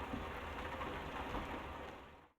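Heavy rain pours in Euro Truck Simulator 2, a dense, even hiss of drops with a low rumble beneath, steady and loud before cutting off abruptly at the end.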